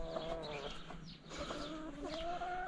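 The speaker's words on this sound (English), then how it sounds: "He ain't a chicken, he's a rooster." A young rooster lets out soft, repeated clucks and short calls close by on a quiet farm, fairly faint, with light background rustle and no talking.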